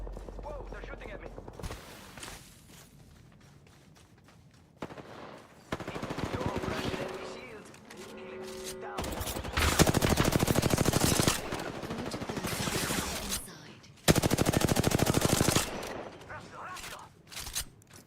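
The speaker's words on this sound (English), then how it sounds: "Whoa, they're shooting at me." Enemy gunfire in a video game, with loud bursts of rapid automatic fire that start and stop in several volleys, mixed with game effects and occasional speech.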